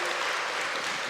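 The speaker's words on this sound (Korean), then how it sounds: "박수 한번 쳐주세요" Brief burst of clapping from a church congregation during a Sunday worship service, a dense wash of hands at moderate level with no voices over it.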